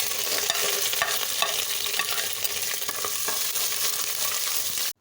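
Tempering for khichdi sizzles and crackles steadily in a hot pan, a bright continuous frying hiss with faint stirring and no voices.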